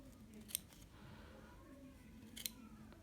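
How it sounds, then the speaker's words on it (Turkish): Scissors snip through felt while making a macrame fridge magnet, two quiet, crisp cuts spaced about two seconds apart against a faint, low room hum. "Şu ortasındaki kısmı da kesiyoruz."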